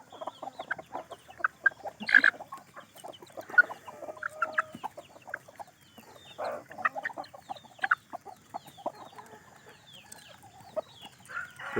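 Chickens, including mixed-breed native chickens, cluck in a busy farmyard, with scattered calls and a brief rooster-like squawk rising over continuous clucking at moderate distance.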